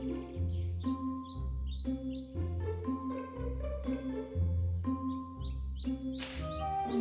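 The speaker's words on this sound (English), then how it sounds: "It's a sparrow chirping nearby." A sparrow chirps nearby in a quick, steady series of bright tweets over a low, looping musical backing, with no voices.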